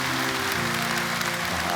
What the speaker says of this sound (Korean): 우리 한번 박수로 크게 격려했습니다